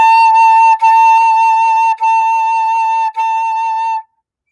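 A flute holds a long high A and breaks it into four tongued notes with short gaps between them. The notes are clear, bright and steady, played alone at close range with no talking.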